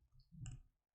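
A single computer mouse click while logged in to an Azure portal: one brief, close, quiet tick with no talking around it.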